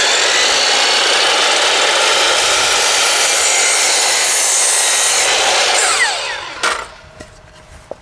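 A power saw rips steadily through a wooden side piece of a rabbit nesting box, cutting an angle in one loud continuous pass before winding down and falling quiet near the end.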